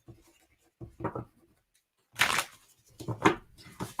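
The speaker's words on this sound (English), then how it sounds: "I seem to be shuffling challenged today" Playing cards are shuffled by hand in short bursts, with quiet riffles and soft slaps that come and go between pauses.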